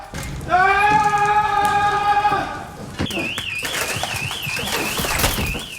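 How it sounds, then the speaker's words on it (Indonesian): A back-door alarm goes off in a film scene, first as a steady harmonic tone, then switching to a loud warbling electronic siren, with thumps and background film sound throughout. "Ia segera memalsukan arah pelariannya dengan mengaktifkan alarm di pintu belakang."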